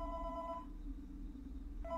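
A telephone rings in the Roblox game FNAF: Coop, a steady electronic trill that stops partway through and then starts again at the end, heard alone over a low background hum.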